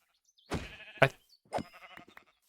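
A sheep in a video game bleats in a few short, wavering calls, close and clear against near silence.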